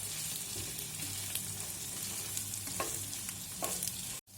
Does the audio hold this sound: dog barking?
no